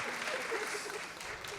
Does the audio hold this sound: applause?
yes